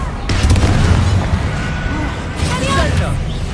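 A Confringo blast spell goes off in Hogwarts Legacy, a close booming explosion that rumbles on under excited talk, with further bursts during the fight.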